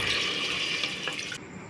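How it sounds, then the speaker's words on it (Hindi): Half a glass of water poured into browned mutton in a pressure cooker for biryani, a steady close splashing stream that stops abruptly near the end. "अब हम इसमें आधा गिलास पानी डाल देंगे।"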